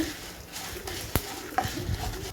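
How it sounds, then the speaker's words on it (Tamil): Radish chutney ingredients with dry red chillies frying in a pan, a soft steady sizzle with a few stirring clatters and light scrapes, close and moderately quiet with no talking. "எல்லாம் பொன்னிறமாக வதங்கிடுச்சு"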